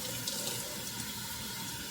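Water runs steadily from a tap into a sink during a synthetic wig detangling session, a continuous close, loud rushing splash with no speech.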